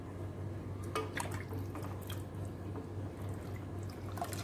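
Used kitchen utensils from making ghee out of cream are dipped and swirled in a bowl of hot water, giving soft, continuous sloshing with small drips and splashes close by, no talk.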